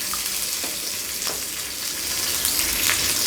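Spices for tomato chutney crackle and sizzle steadily in hot oil, with urad dal, curry leaves, a dried red chilli and asafoetida popping in a continuous close hiss, a few sharper spits rising through it.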